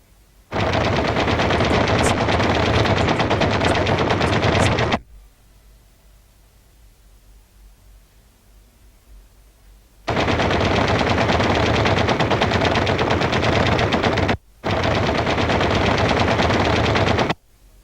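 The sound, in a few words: B-25 Mitchell aircraft cannon firing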